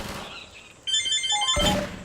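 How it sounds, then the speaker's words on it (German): A telephone in the room gives a short electronic ring, a bright warbling tone that lasts under a second and sits over faint background noise from Half-Life 2 gameplay. "Und schon wieder Telefon."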